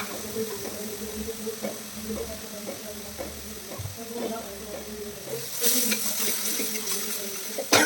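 Potatoes and prawns sautéing in a pan, a soft continuous sizzle with occasional stirring clicks, growing louder and more crackly near the end.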